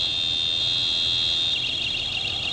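A portable gas detector sounds its alarm during a bump test, giving a loud, continuous high-pitched electronic tone that holds steady and then turns pulsing, close up with no talking.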